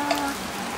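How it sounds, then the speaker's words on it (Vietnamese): Heavy rain pours steadily during a downpour in a rural home, a continuous hiss that masks other sounds for a short moment. "Ở đây thì mưa tầm tã luôn, mưa từ nãy giờ mà hả"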